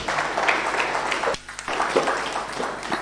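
Clapping fills the room at a Certificate of Data Protection graduation ceremony, a moderately loud ragged spread of hands that briefly dips before resuming.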